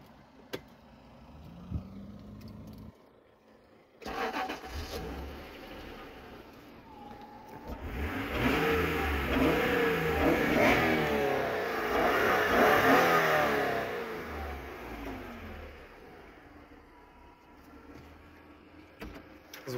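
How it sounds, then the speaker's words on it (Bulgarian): A 3-litre, 2.6, 256-horsepower automatic car engine revs up from idle into a loud, raspy roar that swells and holds for several seconds, then settles back to a quieter idle, with no talking. "Много хубав звук издава двигателя."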